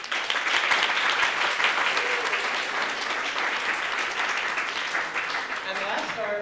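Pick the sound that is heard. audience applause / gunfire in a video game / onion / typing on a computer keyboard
audience applause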